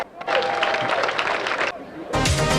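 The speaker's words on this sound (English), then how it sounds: "how about a nice round of applause for our most recent Hall of Fame" Crowd applause for Hall of Fame inductees before a high school Wilkes-Barre Wolfpack at Berwick Bulldogs game: a dense, steady clatter of many hands that dips briefly near the end and then swells again at full strength.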